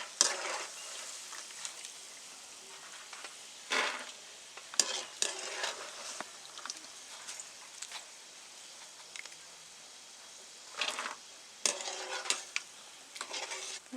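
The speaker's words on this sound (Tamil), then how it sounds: "இப்போ நிலக்கடலை போட்டு பொரிச்சு எடுத்துக்கலாங்க" Peanuts deep-frying in hot oil, a steady bubbling sizzle with occasional louder scrapes and clinks of a spoon stirring in the pan, close and moderately quiet, no voices.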